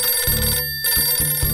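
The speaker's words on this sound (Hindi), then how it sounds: "फोन मत उठाना" A cartoon telephone bell rings in quick repeated bursts with a brief pause between, loud and close, heard alone with no talking.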